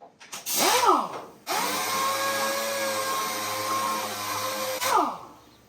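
A power sander whirs up, runs with a steady high whine across a primed body panel of a Vendo 39 Coke machine, then spins down, with brief start-and-stop bursts before and after.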